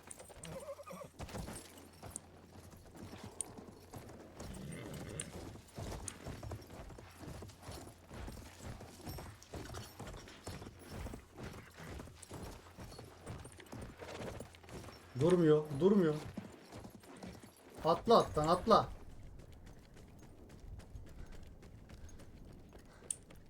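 Horse hooves clip-clopping in Battlefield 1 story mode, a steady run of hoof thuds with occasional whinnies and battlefield noise, mostly under someone talking over the game.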